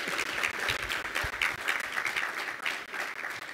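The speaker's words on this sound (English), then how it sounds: "Please, ladies and gentlemen, let's give them another round of applause." Audience applause for award winners at an evening ceremony, a steady dense clapping from a sizable crowd that holds at an even level throughout with no voices above it.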